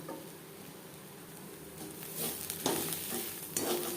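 Mashed ol (elephant foot yam) leaves cooking down on a low gas flame until dry, a soft continuous sizzle with occasional stirring scrapes that grow a little louder toward the end.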